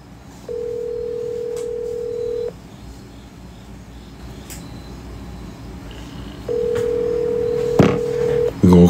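An outgoing phone call rings unanswered, with two long, steady ring tones a few seconds apart over faint background noise and a short burst of clicks near the end.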